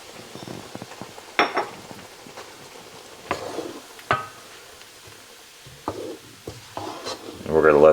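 Guinness beer poured into a hot pan of sausages, with soft bubbling sizzle under scattered scraping and clinking of a utensil against the pan, quiet overall and rising into a louder fizz near the end.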